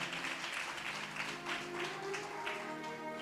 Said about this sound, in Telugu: ఆ భక్తుడి గురించి చప్పట్లు కొడతారా?